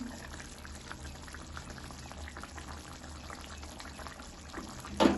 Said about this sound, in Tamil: இப்போ இந்த சத்தத்தை கவனிச்சிங்கன்னா தெரியும் குழம்பு நல்லா கொதிச்சு கொத கொத வந்தது